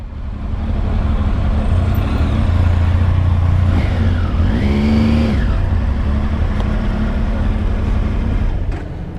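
A Triumph Tiger motorcycle engine runs loud and close at a motorcycle day at the Long Shop, holding a steady throbbing note with a brief rising rev in the middle.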